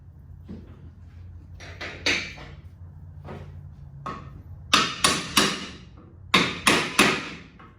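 A hammer pounds a new control arm bushing for a Pontiac G5 into a metal vise in a workshop: scattered light taps, then two sets of three sharp, ringing blows, close and loud with short gaps between.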